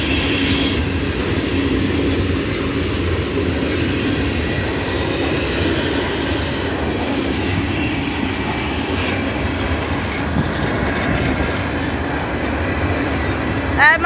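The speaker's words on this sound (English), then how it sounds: "Holy, this is a long train." A long CSX freight train rolls past at Folkston, Georgia, with a continuous heavy rumble and the clatter of wagons on the rails. It stays close and loud, unbroken for the whole stretch.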